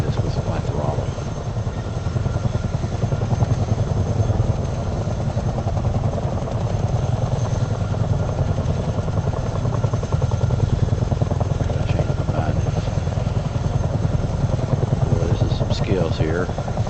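A video game helicopter's engine drones steadily with the pulsing thrum of its rotor throughout, close and loud, with faint voices occasionally underneath.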